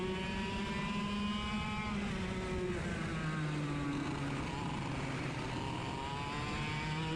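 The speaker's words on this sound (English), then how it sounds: "Watch for the bog on my cart, right? There, you kind of hear the cart kind of bog" Racing kart engines at a race start, several buzzing two-stroke engines rising and falling in pitch together, one bogging down as the pack accelerates, loud and close throughout.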